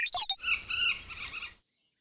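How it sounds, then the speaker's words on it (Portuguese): Bird call in an animal-sound guessing game: a few sharp, shrill squawks and chirps, close and clear, ending in silence. "Pássaro!"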